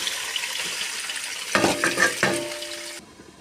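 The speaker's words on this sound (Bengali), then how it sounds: "আমার পনিরটা আমি এখন একটু হালকা করে ভেজে নেব" Paneer lightly frying in a pan, a bright sizzle with stirring scrapes that swells midway into a louder crackle, then cuts to quiet near the end.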